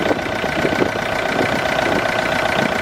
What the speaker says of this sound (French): Voilà le sale bruit que fait ma voiture.